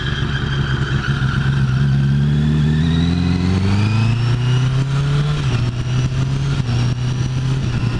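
An old motorcycle engine revs up loudly and close, its pitch climbing steadily over several seconds before settling into a high, sustained drone, with no talking.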